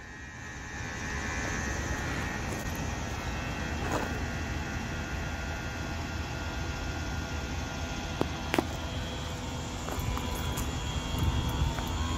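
An AirLift 5000 wireless air suspension compressor on a 2016 Ram 1500 runs steadily, a constant moderate droning hum filling the bags for about twelve seconds, with a couple of faint clicks and no speech.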